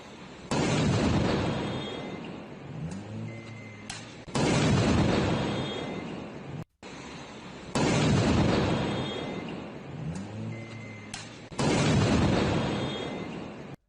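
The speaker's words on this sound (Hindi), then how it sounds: "ईरान के रश्त में सेना की गाड़ी के पास धमाका" Explosion near an army patrol vehicle in Rasht, Iran, captured in news footage: two loud, broad blasts arrive in succession, each a sharp burst followed by rumbling roar, with a second pair repeating, and no talking.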